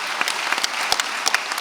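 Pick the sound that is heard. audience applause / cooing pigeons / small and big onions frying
audience applause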